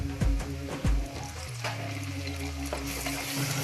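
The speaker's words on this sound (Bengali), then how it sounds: "ভালো করে নেড়ে নিয়ে চপ করে রাখা টমেটো কুচিটা দিয়ে দেব।" Chopped tomato goes into frying chopped garlic and is stirred, giving a couple of sharp thumps followed by a steady close sizzle.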